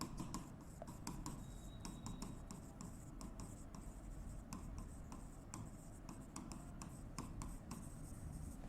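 Pen scratches steadily on paper as figures are written during an accounting lecture, a close, continuous stroking rhythm over a low background hum.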